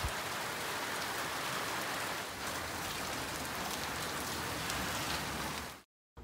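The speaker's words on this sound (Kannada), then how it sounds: "ಜೋರು ಮಳೆ ಸ್ಟಾರ್ಟ್ ಆಯಿತು" Heavy rain falls as a sunshower, a dense and continuous hiss of drops hitting surfaces that stays steady and loud, then cuts off abruptly just before the end.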